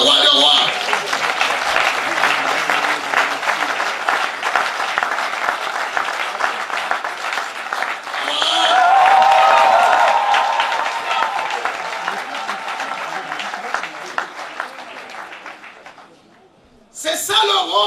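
A church congregation breaks into sustained applause, a dense wash of clapping that swells loudly midway, then fades into a brief lull before picking up again.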